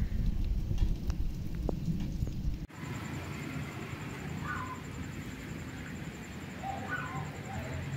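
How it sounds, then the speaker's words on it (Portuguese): Heavy rain pours steadily onto an open farmyard in Remígio in Brazil's Northeast, a dense broadband hiss that stays loud and even throughout, with a sharp cut partway through and a few faint distant sounds over the downpour. "Muita chuva."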